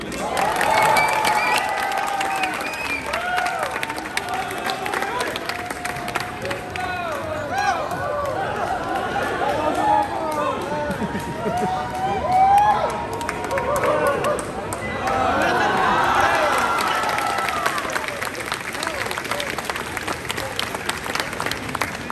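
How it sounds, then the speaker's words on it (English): Crowd at a sumo demonstration in Atlanta applauding and cheering in swells, with clapping, shouts and hubbub rising and falling, and someone talking through parts of it. "This is where you cheer, remember?"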